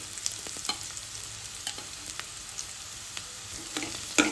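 Grated ginger and garlic frying with onions in a pan for dal masala khichadi, a soft steady sizzle with occasional stirring scrapes and clicks, close and quiet, no talking.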